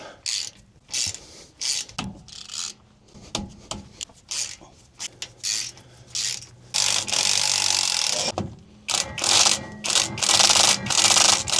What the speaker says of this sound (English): I'll hit them with the ratchet drive